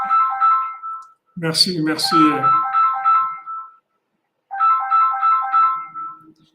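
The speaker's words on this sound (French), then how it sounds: "la sonnerie du téléphone, j'ai oublié de le mettre sous silence" A mobile phone ringtone plays a repeating electronic melody in loud bursts, pausing for a short spoken word and then starting again after a silent gap.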